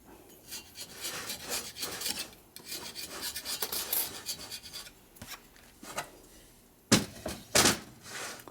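Scraping old gasket material off a 1972 Harley-Davidson Ironhead Sportster engine case, rough repeated rasping strokes up close, ending in a few sharper louder scrapes and knocks.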